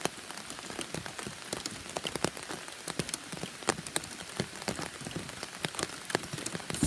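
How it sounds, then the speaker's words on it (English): Heavy rain pattering on a nearby surface outdoors on a fishing trip, a steady dense hiss with frequent sharp, louder drops throughout. "it's raining like crazy out here"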